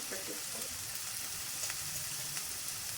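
Onion fries with ginger garlic paste in a pan for a jackfruit fish curry, giving a soft, steady sizzle with faint crackles over a few seconds.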